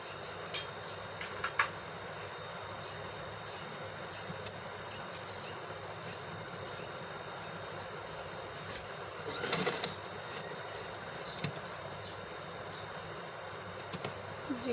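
A sewing machine stitches the side pocket of a kurti with a steady, quiet mechanical whir and faint ticking, continuous throughout.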